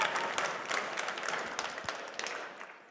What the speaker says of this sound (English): we're giving you one big round of applause